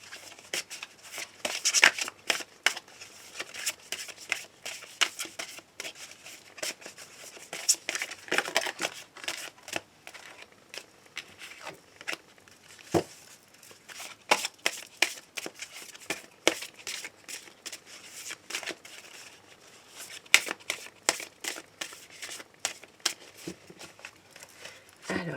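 Light, rapid card shuffling of a small Lenormand deck, soft repeated riffling and rustling close up with scattered sharper flicks, continuing steadily with no talk.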